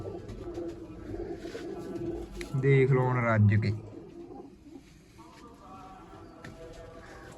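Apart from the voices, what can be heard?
pigeons cooing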